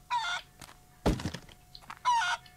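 Chicken clucking in the farm game Barn Finders: two short, bright squawking bursts separated by a dull thump in between, moderately loud and without talk.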